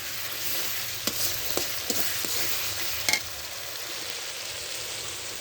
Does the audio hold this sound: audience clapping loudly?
no